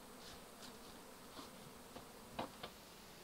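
Honey bees swarming around a bee trap frame at an apiary, giving a steady low insect hum with a few brief louder buzzes of individual bees passing close.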